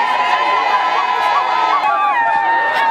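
A large crowd of men, women, elders and children in Mokambo welcomes Katumbi supporters with continuous loud cheering, whooping and high shouts, dense and close throughout.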